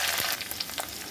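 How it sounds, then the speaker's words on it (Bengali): Olives and green chillies frying in a pan, a close, steady crackling sizzle with light stirring, fairly quiet and brief. "জলপাইটা ভাজা হয়ে গেছে"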